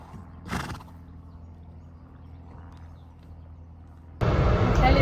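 A horse gives one brief whinny early on during a ride outing, followed by quiet rustling and then a sudden loud burst of broadband noise.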